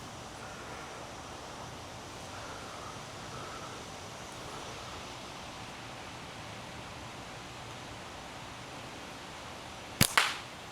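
A Wasp Imp slingshot fires once near the end, a sharp close snap of the bands after a long stretch of steady outdoor background noise.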